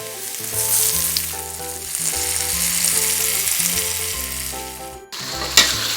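Rendang spice paste hits softened onions in a hot pan for free-range chicken rendang, producing a loud, dense sizzle that holds steady over a backing music track, briefly cutting out and then resuming with a crackling burst.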